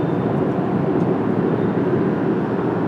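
Dash 8 turboprop airplane at Washington Dulles airport on a cloudy day: a steady, loud, broadband engine roar with a low rumble, unbroken throughout and heard alone.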